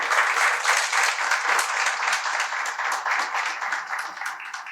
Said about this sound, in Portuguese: Pode aplaudir Jesus se quiser.